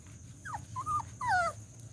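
A small puppy gives a few soft, high whimpering whines, rising and falling, close by in a quiet room.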